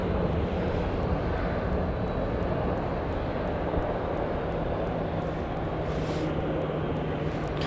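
An airplane taxiing at Dallas Love Field airport, a steady, low engine rumble and hum that holds constant throughout with no talking.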